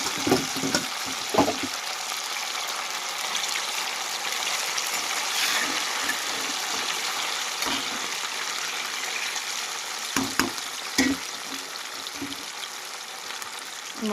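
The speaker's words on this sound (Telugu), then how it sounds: "ఫస్ట్ అయితే ఆయిల్ హీట్ ఎక్కినాక చికెన్ అయితే వేసేసుకుందాం." Chicken pieces frying in hot oil in a home kitchen, a steady loud sizzle and crackle throughout, with a few soft clinks and taps as pieces are added and moved, no talking.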